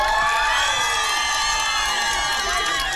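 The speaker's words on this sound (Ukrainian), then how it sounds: "Оплески, Люді." A karaoke crowd on an outdoor square cheers and applauds a singer named Lyuda, loud whoops and shouting voices layered over clapping, sustained and boisterous for the whole stretch.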